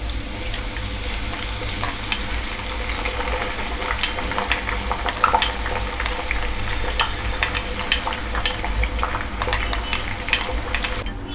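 Moong dal deep-frying in hot oil until crisp, a dense, steady sizzle and bubbling with scattered sharp crackles and pops, close and continuous throughout.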